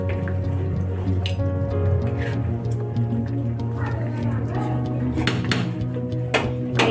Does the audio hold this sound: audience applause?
no